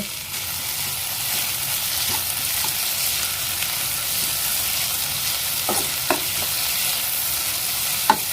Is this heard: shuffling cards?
no